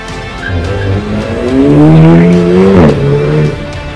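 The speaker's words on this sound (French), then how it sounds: "des voitures historiques ont pu défiler avec éclat" Historic rally cars pass in a parade, engines droning loudly with rising and falling revs and a brief tire squeal, close and continuous over a few seconds.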